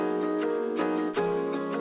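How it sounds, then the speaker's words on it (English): Sustained Keyscape sampled piano chords with a prominent noise hiss riding across the high end, a new chord struck near the middle, steady and close. "There's a bunch of noise on this keyscape piano"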